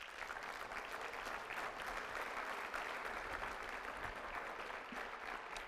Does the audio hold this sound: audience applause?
yes